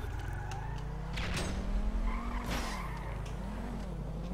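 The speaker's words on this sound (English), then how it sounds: "There goes another tyre." A car in the video game GTA 5 has a tyre shot out, giving a loud skidding screech over a steady engine drone, with sharp bursts near the middle.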